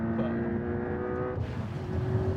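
A Porsche Cayman sports car accelerating hard from a standing start during a timed run, its engine drone loud and steady with a shift in pitch partway through.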